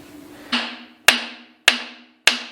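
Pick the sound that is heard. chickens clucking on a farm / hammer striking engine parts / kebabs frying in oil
hammer striking engine parts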